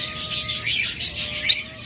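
Pet birds at a commercial breeding farm, among them budgerigars, diamond doves, lovebirds and cockatiels, chatter in a steady stream of high, overlapping chirps and tweets that runs without a break.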